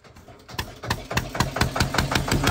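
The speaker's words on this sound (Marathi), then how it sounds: "आता आपण मारणार आहे पंप इंजिन सुरुवात। चला आपली होडी चालू झाली" A fishing boat's pump engine on a creek sputters to life, then settles into a steady, rhythmic chugging with regular knocking beats, close and fairly loud.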